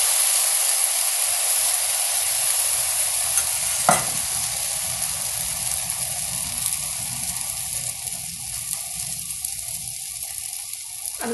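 Rava uthappam batter poured onto a hot dosa tawa with a little sesame oil sizzles steadily and loudly, a continuous hiss with a brief scrape or clink partway through and near the end.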